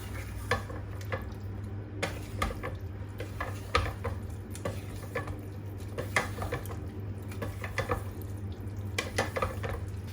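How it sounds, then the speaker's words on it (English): Chickpeas and spinach curry stirred in a Pressure King Pro electric pressure cooker: repeated close scraping and wet squelching strokes over a constant low appliance hum, no voices. "Mix it up."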